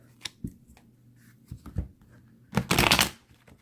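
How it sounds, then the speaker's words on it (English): Cards being riffled and shuffled close up, a few soft flicks followed by a louder, fuller burst of shuffling near the end. "I guess I'm going to shuffle again"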